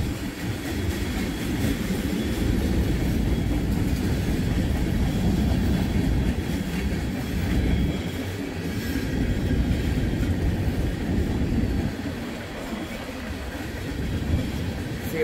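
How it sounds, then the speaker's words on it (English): A Norfolk Southern freight train hauling tank cars rolls steadily past, a continuous loud rumble of wheels and rattling cars with faint clickety-clack, no horn and no talking. "See a bunch of more tankers way down there coming. It's on the end of the train."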